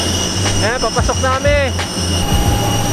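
Passengers boarding a flight to Palawan hear a jet airliner's engines as a steady high whine over a continuous roar, loud and close, with faint muffled activity around it.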